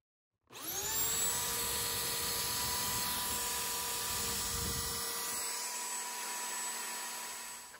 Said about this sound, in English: this will be a bench sander.